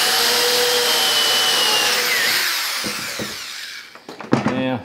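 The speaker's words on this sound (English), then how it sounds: "we'll just drive some screws" A power drill drives screws into a wooden shooting board, a loud whining motor run that winds down, followed by a few short knocks and a person speaking.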